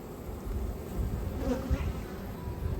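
Honeybees buzz around a hive in a steady, low, continuous hum, moderately close, with no voices over it.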